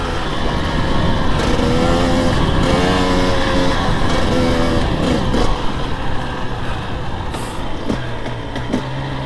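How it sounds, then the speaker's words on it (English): A KTM 300 XC-W TPI two-stroke dirt bike engine revs loud and close, its buzzing tone rising and falling through throttle changes before settling to a lower drone near the end. "it just sounds just amazing. The sound of two-stroke."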